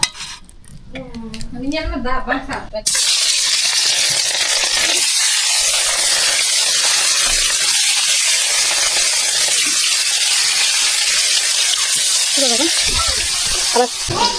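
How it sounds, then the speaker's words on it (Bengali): Fish rubbed with salt crackle and sizzle in hot oil in a pan, a loud, steady hiss that starts suddenly and holds for the rest of the stretch, with a voice briefly heard before and near the end. "এই মাছগুলো এখন ভাজবো"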